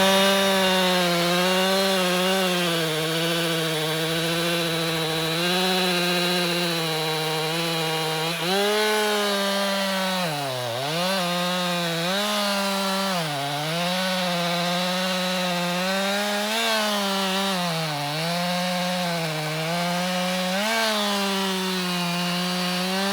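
A chainsaw cutting into a firewood log, a loud, steady engine whine held close for a long stretch, dipping in pitch several times as the chain bogs down in the wood and then recovering.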